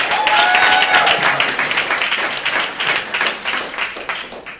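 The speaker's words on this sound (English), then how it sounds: "a big round of applause to our judges." An audience claps in a steady round of applause, many hands together, gradually thinning out toward the end.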